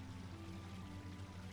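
Water being poured in the sandbox game The Sandbox, a steady, continuous rushing pour with a constant hum underneath, unbroken for the whole moment.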